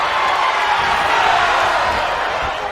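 A wrestling event crowd gives off a loud, dense roar of cheering and noise that stays steady throughout, with a commentator's voice speaking over it.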